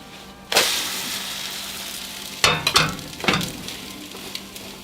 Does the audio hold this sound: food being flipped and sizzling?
yes